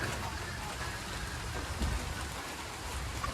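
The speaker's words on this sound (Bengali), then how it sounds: "এই যে বৃষ্টি এই পড়ছে" Steady rain falls outdoors in a Bengali village during a dry spell, a dense even hiss of drops with no voices and a single sharp knock at the very end.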